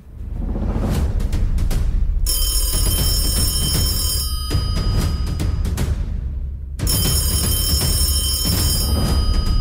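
A loud telephone rings in two long bursts during a radio show while hosts dial out to a caller, over steady background studio sound, with no talking.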